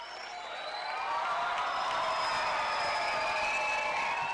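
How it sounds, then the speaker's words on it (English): An audience at a youth sports competition in Nagpur cheers and claps for the students, a dense roar of applause and shouting that swells after the first second and stays loud and steady. "And students, I really want you to cheer for them."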